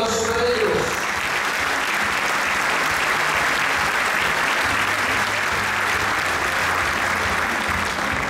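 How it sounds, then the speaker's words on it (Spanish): An audience at an agreement signing ceremony breaks into sustained applause, many hands clapping steadily and loudly for several seconds. "Un gran aplauso para ellos."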